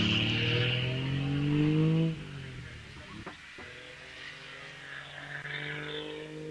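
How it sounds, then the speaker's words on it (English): A vintage sports car engine revs hard at a hillclimb, loud and close with strong harmonic drone, dropping back after a couple of seconds to a steadier idle-like note, with a brief sharp burst mid-way. "Nice engine note."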